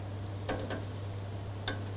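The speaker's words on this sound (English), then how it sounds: "We don't want them frying too long until they get too dark." Potato croquettes fry in hot oil with a steady low sizzle, broken by a few sharp crackles and pops. No one speaks over it.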